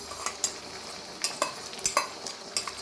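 Avakaya fried rice being stirred in a pan with a metal spatula, several sharp scraping clinks over a soft sizzle, close and steady, with no talk.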